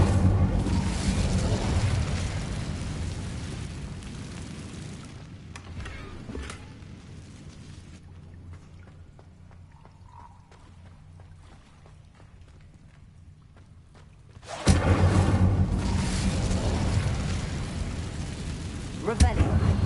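An Incendio fire spell cast in Hogwarts Legacy: a loud, roaring fiery blast fills the opening seconds, the sound drops to a quiet lull, then a second forceful burst of flame roars back in and carries to the end.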